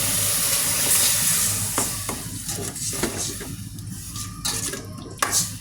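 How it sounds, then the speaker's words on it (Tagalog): Sinampalukang chicken soup (a sour tamarind chicken soup with onion) boiling in a pot, giving a steady close bubbling hiss with a few sharp utensil clicks, fading slightly over time. "Kumukulo na ang ating sinampalukan."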